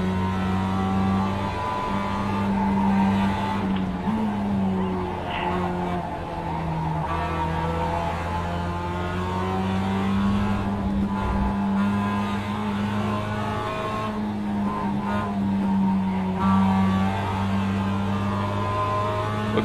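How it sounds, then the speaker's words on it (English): Race cars run on a circuit in the closing laps, engines droning and shifting pitch steadily as rivals close in, with tire noise and passing cars layered over a constant loud mechanical hum. "like this red car is going to try to make a pass on me here"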